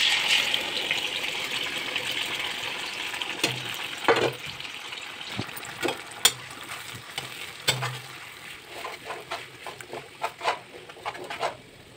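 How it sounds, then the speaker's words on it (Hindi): Freshly ground spice paste with cumin hits hot oil, producing a loud sizzle that gradually settles, broken by irregular scrapes and stirring clatters in a home kitchen. "अब इसमें डालना है मुझे मसाला जो कि मैंने पहले से ही पीस के रेडी किया हुआ है"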